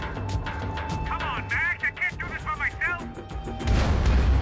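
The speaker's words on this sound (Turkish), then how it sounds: "O bomba da attılar." A bomb explosion in Max Payne 3 erupts at the end as a loud, broad boom. Before it, a burst of rapid gunfire and game chatter play under ongoing in-game noise.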